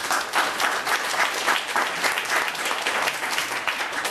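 An audience at an art and culture debate applauds with dense, continuous clapping that holds steady and fairly loud from start to finish.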